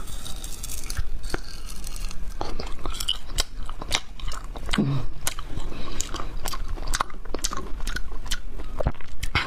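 Crunchy foam ice is bitten and chewed close up, with loud, continuous crisp crunches and snaps packed densely throughout.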